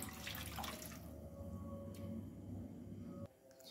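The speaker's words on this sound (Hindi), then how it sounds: "उसके बाद हम इसमें ऐड करेंगे 1 कप पानी" A cup of water is poured into a cooking pot while preparing smoky qeema, a close, steady pouring splash lasting about three seconds before it stops abruptly, with no talk over it.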